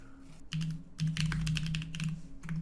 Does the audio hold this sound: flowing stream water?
no